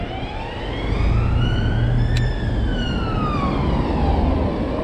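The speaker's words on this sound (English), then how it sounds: "let the ambulance go." A loud wailing ambulance siren sweeps up and down as the ambulance passes close by, its pitch dropping as it goes, over steady traffic rumble.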